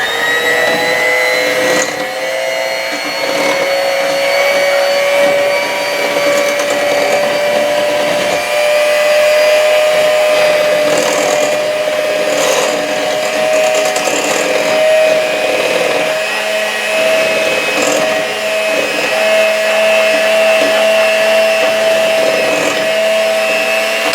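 An electric mixer whirs steadily and loudly for a long stretch while blending dairy-free pumpkin pie filling with vanilla, its pitch holding almost constant with slight wavers and no talking.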